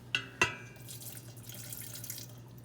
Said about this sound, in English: Now we're going to add our